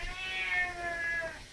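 A cat lets out one long, drawn-out, rising and falling yowling meow, loud and close.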